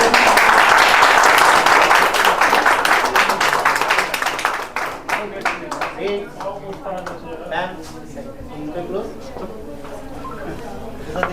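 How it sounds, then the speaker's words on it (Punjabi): Audience applause at the opening ceremony of a Fashion TV salon in Mohali, loud and dense for the first few seconds, then thinning into scattered claps under people talking. "ਤਾੜੀਆਂ ਮਾਰਦੇ"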